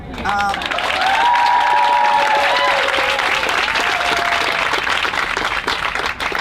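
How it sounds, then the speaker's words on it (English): Loud audience applause fills a white coat ceremony hall, sustained clapping with some cheering, while a voice speaks over it and a tonal sweep passes through early on. "if everybody could please give a huge round of applause to Marie"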